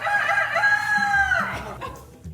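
A rooster crows once at close range, a loud drawn-out cock-a-doodle-doo that falls away at the end, with some clucking of fowl after it and no talk.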